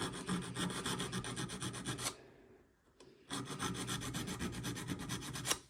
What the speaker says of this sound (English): All we're doing is we're filing, and as we're filing, we're turning and bringing that file up.